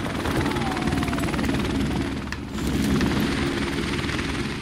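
A helicopter in Call of Duty Modern Warfare Remastered roars loudly and continuously, a dense steady rotor-and-engine wash filling the whole stretch with only a brief dip partway through.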